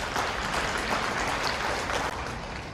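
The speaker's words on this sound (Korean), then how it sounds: "한번 큰 박수 한번" Audience applause at a founding gathering in a hall at EXCO in Daegu, a dense, steady wash of many hands clapping at moderate distance, filling the whole moment with no speech over it.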